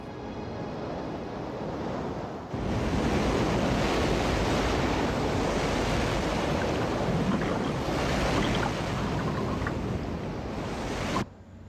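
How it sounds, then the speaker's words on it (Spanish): Tsunami waves rush in with fast-moving water, a steady loud surging wash that jumps up in intensity and holds for several seconds before cutting off, with no voices. "la gran velocidad del agua deja casi sin escapatoria a los que intentan huir de ella"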